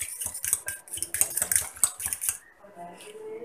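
Egg beaten together with onion, chilli, ginger and salt in a bowl, rapid clinking and scraping of a utensil for about two seconds, close up, then a brief quieter tail with no talking.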